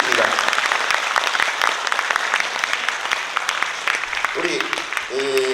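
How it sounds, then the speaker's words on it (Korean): Audience applause at a Korean lecture event honoring a historian's new book, dense clapping throughout with some voices and a brief music phrase near the end. "여러분 큰 박수와 함께 꽃다발 준비해 있겠습니다."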